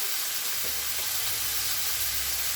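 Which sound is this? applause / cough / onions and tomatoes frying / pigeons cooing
onions and tomatoes frying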